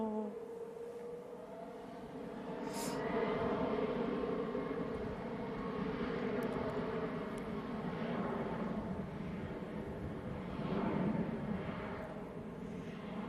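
A jet airliner on approach to Manchester Airport after a flight from Shanghai gives a steady, broad engine roar that swells slightly and stays fairly loud throughout, with a few faint distant voices.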